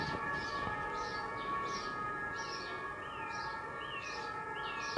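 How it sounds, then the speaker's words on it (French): Sirens wail outside, a faint distant whooping tone rising and falling repeatedly, with steady high tones and background hiss and no talk. "Pardon pour les sirènes."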